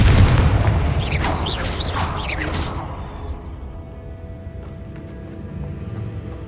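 A Confringo fire spell goes off in the Hogwarts Legacy game with a loud, booming blast at the start, trailing whooshing bursts and a long rumbling decay that fades to a quieter hum.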